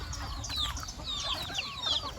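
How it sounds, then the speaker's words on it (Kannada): Hens and chicks wet from rain, sheltering inside a house, cluck and peep softly in quick, high chirping bursts, faint and fairly close over a low background rumble. "ಮನೆ ಮನೆಯೊಳಗಡೆ ಇರೋ ಕೋಳಿಗಳು ಇಲ್ಲಿ ನೋಡಿ"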